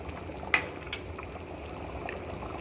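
Sandge curry, a vegetable dish made with mixed-dal dumplings, simmers in a pot with a faint, low bubbling, broken by a couple of soft pops and ticks near the start.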